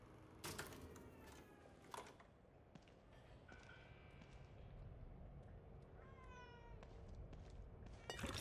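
In The Evil Within 2 video game, a cat gives a few short meows, soft and close, with a longer wavering call later, over quiet ambience and a few sharp clicks.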